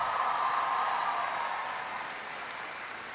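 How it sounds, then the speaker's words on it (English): Steady broadband wash of audience applause at a Knox College speaking event, dense and sustained throughout, slowly fading slightly toward the end with no talk over it. "Give Teresa a big round of applause."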